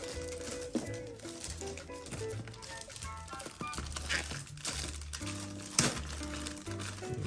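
Packaging for a white Alienware 610m gaming mouse crinkles and rustles up close as it is unboxed, in irregular crackling bursts over a steady background music bed.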